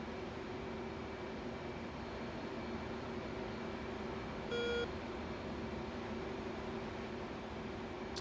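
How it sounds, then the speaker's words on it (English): Aircraft carrier beeping in the DCS World flight simulator with an F/A-18, one short tonal beep heard near the middle over a steady cockpit engine hiss and hum. "That beeping is the carrier."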